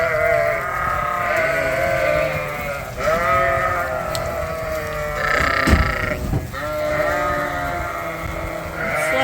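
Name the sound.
sheep bleating coming out of barn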